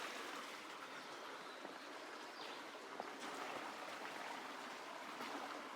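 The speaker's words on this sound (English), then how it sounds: "we're crossing over that little stream just a little farther down the trail we were just at" A small stream on a hiking trail flows steadily under a footbridge, a faint, continuous wash of trickling water with no voices.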